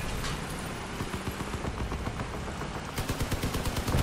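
Rapid cannon gunfire rattles through a battle in the vehicle combat game Crossout, a dense continuous stream of loud shots that grows sharper and more distinct toward the end.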